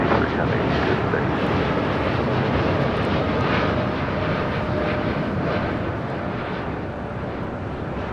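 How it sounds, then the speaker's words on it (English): An eight-year-old Boeing 787-9 Dreamliner airliner at LAX gives off a loud, steady jet engine roar that slowly fades, with wind buffeting the microphone. "This is an 8-year-old 787-9 Dreamliner."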